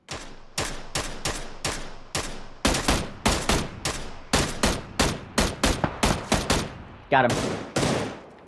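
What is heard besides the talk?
gunfire from PUBG: Battlegrounds video game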